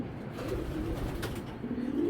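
A female racing pigeon coos softly and repeatedly at close range, low rounded calls over quiet background noise.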